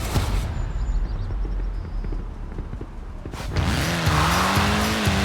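A rally car races in Forza Horizon 4 under a steady loud engine roar, with rattling gravel and tyre noise, then the engine pitch rises and shifts through gears as it accelerates hard.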